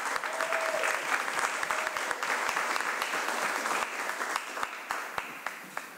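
Audience at a regular board meeting breaks into sustained applause, a dense, steady patter of many hands clapping that holds for several seconds before tapering slightly.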